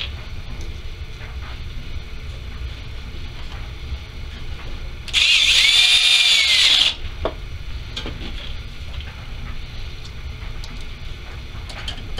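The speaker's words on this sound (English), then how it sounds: "Like to use a cordless drill just to do this next part" A cordless drill whines briefly at high pitch for about two seconds, loud and close, amid a quiet background rumble.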